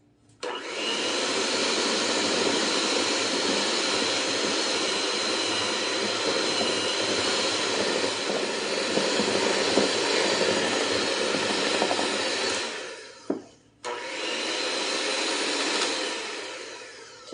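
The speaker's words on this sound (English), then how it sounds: "this beater does not have a low to low speed, so it's probably going to make a mess" A handheld electric beater with no low speed whips cream cheese for a chocolate earthquake cake, a loud steady motor whir running about thirteen seconds, cutting out briefly, then starting again.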